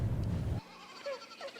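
Goats bleat faintly at a goat yoga farm in Goshen, with a few short, thin calls heard at a distance after a burst of low rumbling noise at the start.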